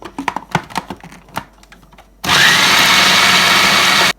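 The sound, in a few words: electric chopper grinding soaked lentils (dal)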